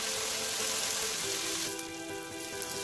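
Chicken frying in a stovetop pan beside a pot of boiling water, a steady loud sizzle with crackling spatter that brightens and intensifies midway, no talking.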